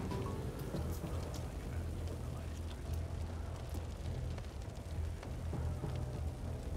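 Steady rain conjured by a water magic spell in a Divinity video game, a constant close patter of falling drops with faint scattered crackles, under a low background.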